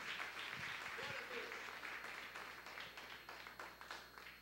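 A church congregation applauds at a low level during a service, the soft patter of clapping running continuously under a speaking voice.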